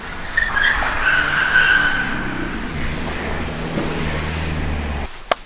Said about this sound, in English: There are some absolute plums doing donuts in the car park.